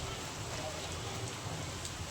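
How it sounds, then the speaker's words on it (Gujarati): The season's first rain falls in a steady, even hiss of drops striking the ground and nearby surfaces, with faint voices in the background. "આવી ગયો 2023 નો પહેલો વરસાદ"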